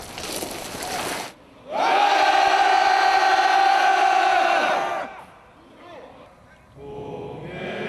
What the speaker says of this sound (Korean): 힘찬 함성과 함께 애국가로 아침을 깨웁니다.